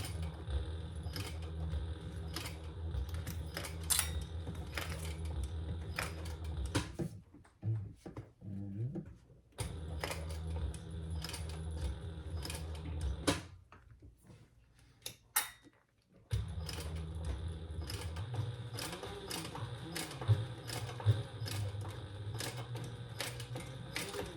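A sewing machine stitches slowly through thick vinyl on a bowler bag, where layers meet. The mechanical whir comes in steady bursts, with two short pauses between them. No one speaks.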